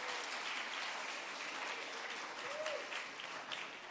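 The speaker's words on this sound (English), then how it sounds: "let's give her a round of applause for the way she approaches things" An audience at an education town hall applauds in a steady, dense round of clapping that holds evenly from start to finish.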